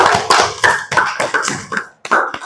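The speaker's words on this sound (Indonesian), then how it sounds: "Sekali lagi tepuk tangan." A room of people applauds a student group, with loud, close, irregular clapping that comes in bursts, briefly dips and then picks up again.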